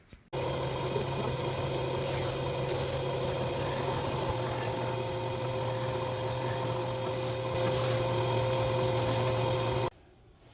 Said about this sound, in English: let's test it now with the dust collection on